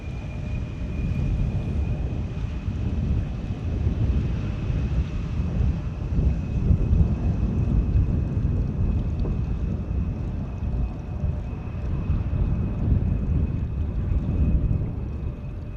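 A constant low, heavy roar from an Airbus A340 airliner at Amsterdam Schiphol Airport, distant and steady throughout, with some wind rumble and no talking.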